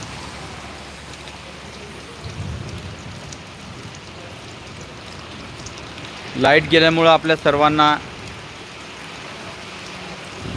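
Heavy rain falls steadily in Buldhana district as a continuous wash of noise, with someone speaking briefly over it partway through.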